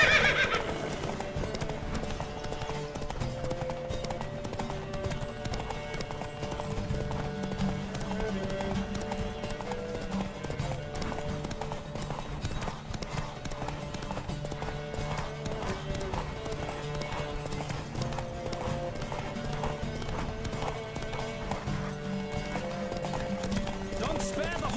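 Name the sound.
horse galloping and neighing in The Witcher 3 video game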